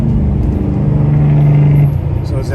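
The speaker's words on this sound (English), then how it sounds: "My Jake brakes are definitely working." Truck Jake brake engaging on a steep mountain descent, a loud close droning engine rattle held steadily for nearly two seconds before cutting off, leaving a lower idle rumble.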